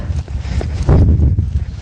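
Morgan horse hooves clip-clopping on a ranch arena during pole bending, a few dull thuds close by, loud and uneven in rhythm.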